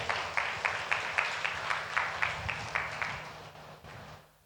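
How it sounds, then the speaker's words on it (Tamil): A church congregation at a Sunday service claps in unison, about a dozen steady, evenly spaced claps that fill the room before fading out. "கைதட்டுங்க பார்க்கலாம்"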